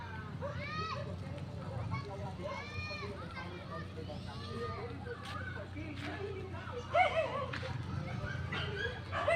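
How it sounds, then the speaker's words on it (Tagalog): Several dogs yip and bark in short, high bursts against a steady background rumble, some calls whimpering, some sharper and nearer. "kay maingay ang mga aso"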